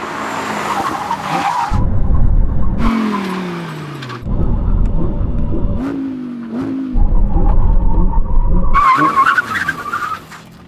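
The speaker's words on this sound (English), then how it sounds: "now we go for a brake test from 100 miles an hour" Audi R8 supercars brake hard from 100 mph. Loud tyre squeal and skidding come in several long bursts, each with an engine note that drops in pitch as the car slows, then louder revving at the end.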